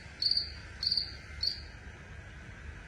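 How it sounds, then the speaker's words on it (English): Crickets chirp in grass in a park setting, three crisp high-pitched trills in a steady rhythm, close and clear over a quiet background. "in the park, I hear crickets in the grass."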